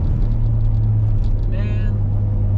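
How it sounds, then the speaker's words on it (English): Exhaust note of a car with a forged RB25DET engine on a midnight test drive, a steady low engine drone throughout with a brief higher whine partway through, heard from inside the cabin. "Oh, that exhaust note."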